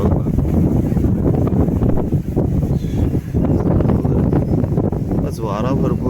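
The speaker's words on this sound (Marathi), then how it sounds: "आज वारा भरपूर आहे" Strong wind buffets the microphone outdoors in a loud, rumbling roar that persists throughout, with a person speaking over the gusts.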